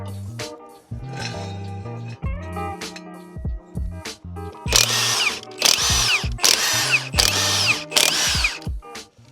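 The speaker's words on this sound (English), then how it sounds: "High torque with the 8 amp battery. It just tears through lug nuts." A cordless high-torque impact wrench with an 8 amp battery removes lug nuts on an 8th gen Honda Civic Si, with short whirring spins early on, then five loud, rapid hammering bursts close by.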